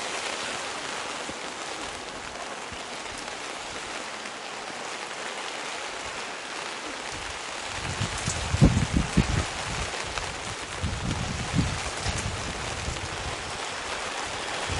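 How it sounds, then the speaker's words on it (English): Heavy rain pours steadily onto a grassy rugby field during a reserves match, a constant broadband hiss with a few louder, closer bursts of crowd or field noise in the second half. "Rain still pouring down from right to left."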